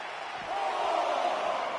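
Arena crowd in WWE 2K24 roars steadily with broad, dense cheering that swells slightly midway, a continuous wash of crowd noise with no distinct voices.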